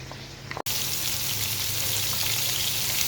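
Fish frying in hot oil, a steady close sizzle with a brief break before the crackling resumes and continues evenly.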